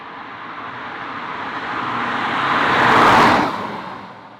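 A 2021 BMW 420d with a diesel engine drives past, a broad road and engine rush that swells toward a loud peak near the end and then fades, with no talk.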